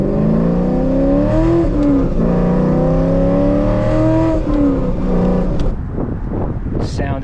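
A Chevrolet C5 Corvette V8 revs hard, its deep engine tone climbing and holding in loud, smooth sweeps before dropping back, up close and with no talk over it.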